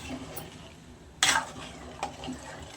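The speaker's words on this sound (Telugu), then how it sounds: "నీళ్ళు పోసుకున్నాం కదా కలుపుకుందాం" A spoon stirs country chicken curry in a pot after water is added, giving a soft wet bubbling under one sharp scrape against the pot and a lighter clink.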